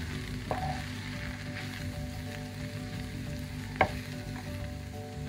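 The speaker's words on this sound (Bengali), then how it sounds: "এখন আমি নুডলস অ্যাড করে দিচ্ছি এখানে। অ্যাড করে দিয়ে এটা ভেজে নেব" Egg noodles fry in a hot pan with a steady, quiet sizzle, broken by a couple of sharp clicks or taps of a utensil against the pan.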